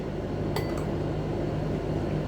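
A spoon clinks against a glass as lemon juice is added to an aloe vera and ginger liver drink, with one sharp clink and a quick follow-up tap at close range over a steady low background hum.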